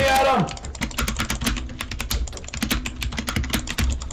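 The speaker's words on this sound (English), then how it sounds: "my mouse or my keyboard's so loud" Loud, rapid computer keyboard clicks and mouse clicks clatter in a steady burst of sharp taps throughout, close to the microphone, during a Minecraft-style fight game, with a brief voice at the start.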